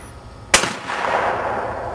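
A single shotgun shot is fired at skeet, a sharp loud blast followed by a long, fading outdoor echo.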